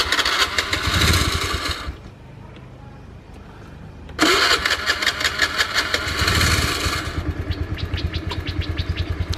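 A rented motorbike engine is started repeatedly on a street in Koh Lanta, Thailand: two loud bursts of cranking and sputtering revving close by, separated by a short quieter gap, the second settling into a rapid, steady idle chatter.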